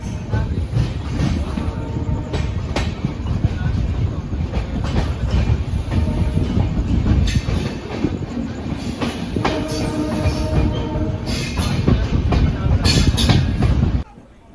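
Jodhpur–Delhi Mandore Express sleeper train running past Raika Bagh Palace Junction in Jodhpur, heard from on board as a loud, continuous rumble with rhythmic wheel clatter and occasional squeals, stopping abruptly at the end.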